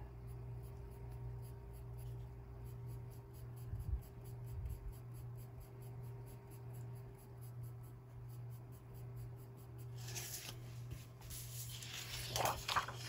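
Polychromos colored pencil strokes on drafting film make a faint, steady scratching, quiet and close, with a few louder rustles near the end.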